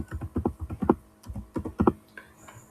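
Typing on a computer keyboard to rename a query, with two quick bursts of key clicks and a brief pause between them, close and clear.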